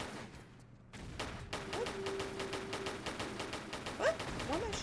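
Rapid bursts of gunfire crackle in steady succession as an enemy shoots grenades in Tomb Raider: The Last Revelation, moderately loud and close, with an occasional thump and short electronic tones over the top.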